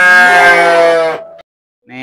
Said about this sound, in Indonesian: jadi domba-dombanya sebanyak 3 ekor daraan dan 1 jajalon yang tadi yang akan dibawa nah ke Karawang